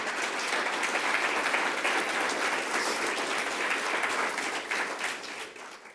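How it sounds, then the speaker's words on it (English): Steady, dense audience applause fills the room at a sustainability summit, holding loud and even before tapering off slightly toward the end. "Can we please give another round of applause to these incredible leaders?"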